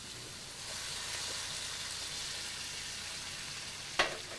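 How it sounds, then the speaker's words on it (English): White wine poured into a hot pan sizzles in a soft, even hiss that swells after a moment and holds steady, with a sharp clatter near the end. "And add some white wine to this."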